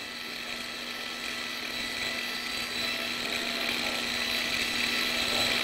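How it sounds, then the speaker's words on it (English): A surgical drill fitted with a supercut diamond burr grinds bone in a steady, high, faint whine that continues without a break and with no one speaking. "These are called supercut diamond burrs. They give you a little bit more control than the"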